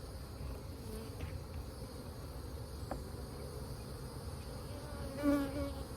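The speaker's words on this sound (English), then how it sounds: "the bees are kind of excitable" Honey bees buzzing around a hive during honey extraction on a cloudy, showery day, a constant low drone of many insects with one louder bee passing close near the end, no talk.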